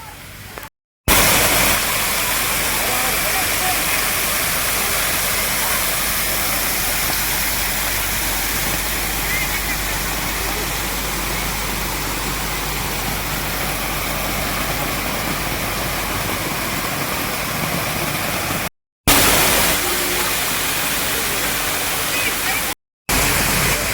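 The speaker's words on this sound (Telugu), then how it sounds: "ఇక్కడైతే statue of unity water fountain ఉంది చూడండి" A water fountain at the Statue of Unity pours a steady, loud, broadband rush of falling water that continues unbroken across the whole span, with no voices heard over it.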